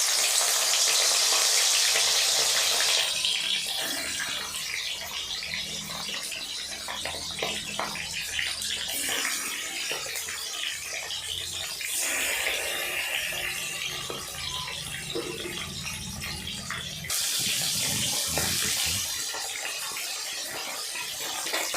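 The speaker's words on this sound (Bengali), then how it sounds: "বন্ধুরা, এবারে আমরা মাছটা ভেজে নেব।" Salted pangas catfish pieces frying in a pan, a continuous bright sizzle and spitting hiss that swells and eases in bursts over about twenty seconds, with scattered crackles and no talking.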